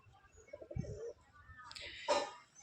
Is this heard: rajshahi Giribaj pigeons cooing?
yes